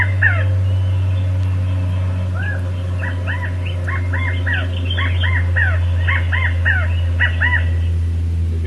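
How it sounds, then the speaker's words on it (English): Quail in Northern California call at night in short repeated phrases of about three notes, a dozen or so clear chirps over a steady low electrical hum, moderately near, with no talk. "Here's quail, and you may or may not hear these at night."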